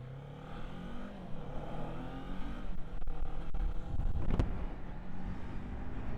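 Kawasaki Ninja 400 parallel-twin sports bike engine running steadily, then revved harder and higher in rising bursts around the middle before settling back, close and continuous with no talk.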